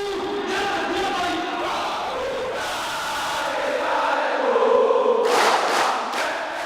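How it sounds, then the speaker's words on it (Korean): Members of a presidential guard unit sing and shout together in an auditorium, welcoming Korean Yongmudo martial arts: a loud, continuous massed crowd of voices with chant-like swells, growing louder toward the end. "대통령 경호부대는 강당이 터져나갈 듯한 노래와 함성으로 한국의 용무도를 환영했다"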